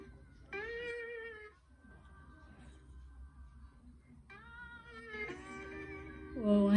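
Cartoonish cat meows from the Roblox game Evade come in two drawn-out bursts with a pause between, rising and bending in pitch, fairly quiet, ending in a louder squeal.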